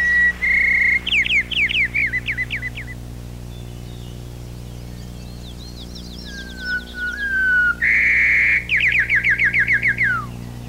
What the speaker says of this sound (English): Here are two dialects of the white-crowned sparrow